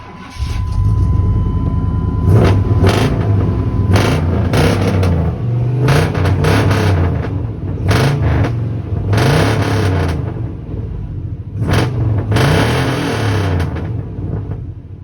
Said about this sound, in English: Truck's actually running better. It sounds better